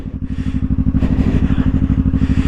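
Motorcycle engine idling and chugging steadily at low speed while the rider turns slowly on the clutch in an open area, a loud, close, rhythmic pulsing with no talking.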